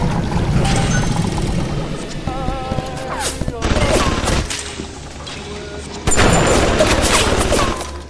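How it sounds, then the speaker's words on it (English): Gunfire in the video game Bioshock: a few sharp shots and bursts ring out loud and close over game ambience, with lingering echoing tails. "Why did I shoot that one off?"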